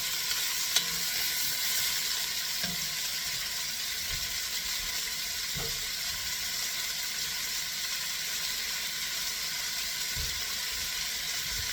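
Onions brown in a hot pan, giving a steady, dense sizzle that holds evenly throughout, with a few soft knocks and stirring clatters scattered across it and no talking.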